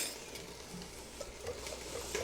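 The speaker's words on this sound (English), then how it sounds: "we're going to whisk that up" Quiet, soft clicking and swishing as a sauce of cornstarch and minced garlic is whisked in a bowl, a few light taps over faint kitchen background, with no talking.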